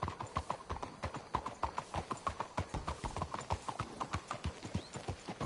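Steady clip-clop of horse hooves in a western video game, a quick even trot of sharp knocks repeating throughout, close and clear with no talk.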